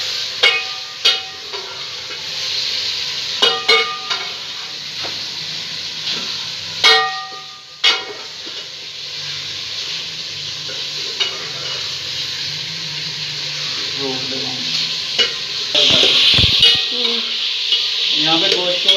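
Meat frying in a pot for a chekan dish, a steady sizzle broken by sharp metallic stirring clanks and scrapes, loud and close, with louder hissing bursts near the end.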